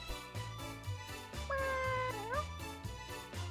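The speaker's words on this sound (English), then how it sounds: "That's a cat." A cat meows in the Traveling Cats video game, one drawn-out, bending meow rising over a soft, rhythmic game music loop, fairly quiet overall.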